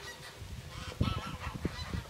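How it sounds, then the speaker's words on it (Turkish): Geese on a goose farm honk repeatedly in a loose, overlapping chorus, fairly close but moderately quiet. "Güzel kazlarımız var."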